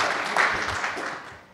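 An audience at an anniversary event for the Safe Drinking Water Act gives a brief, moderate round of applause that fades away within a second or two.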